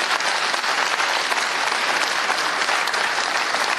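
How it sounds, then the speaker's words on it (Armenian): A crowd applauds the diocese's bishop, Mikael Ajapahyan, a loud, continuous wash of many hands clapping close by, holding steady throughout without any voices standing out. "ծափահարություններ իրան"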